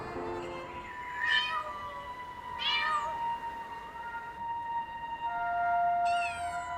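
Lost kittens meowing repeatedly in a stray cat territory, several high, plaintive cries spaced a second or two apart, fairly close and clear over a soft outdoor background.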